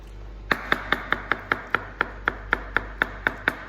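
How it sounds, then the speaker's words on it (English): Steady rhythmic chopping of a knife dicing ingredients on a chopping board, about fifteen evenly spaced crisp taps, close and clear over a low background hum. "so there we go, all diced"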